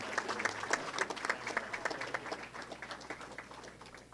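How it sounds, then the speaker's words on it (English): Audience applause at an esports awards ceremony honoring Call of Duty winners, a dense burst of clapping with a few loud claps near the start that gradually thins and softens. "one more round of applause for our Call of Duty winners and team"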